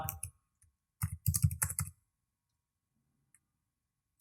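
Keystrokes on a computer keyboard as a password is typed: a few quick taps, then a dense run of clicks lasting about a second, followed by near silence and one last tap, close and fairly clear.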